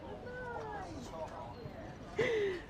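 A cat meowing indoors, giving a couple of short, faint, close mews and then a louder, drawn-out meow near the end over a quiet room.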